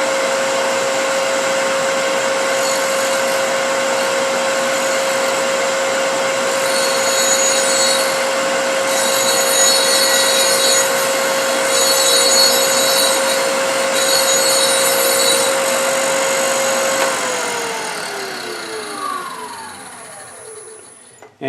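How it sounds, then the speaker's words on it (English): A threading jig's lead screw driving a cutter into wood to form wood threads, producing a steady, loud mechanical whir with a constant tone that winds down near the end. "I just turn this wheel to forward the lead screw so it starts cutting"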